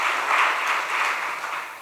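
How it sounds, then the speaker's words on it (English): Audience applause at a devotional event, a dense steady wash of many hands clapping that fades slightly toward the end, no talk over it. "Can we have another round of applause,"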